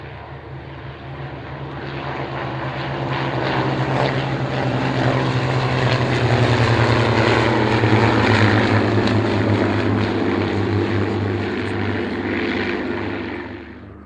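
A propeller-driven aerobatic sport biplane of the kind flown by the RAF drones overhead, its engine note swelling loudly and holding steady before easing slightly as it passes. No voices are heard.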